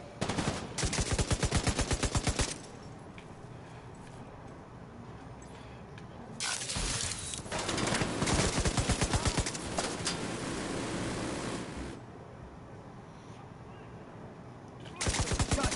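Automatic turret gunfire in The Division 2 at Tidal Basin: long rapid bursts of machine-gun fire, loud and close, breaking off between volleys with quieter gaps, and a faint voice at moments.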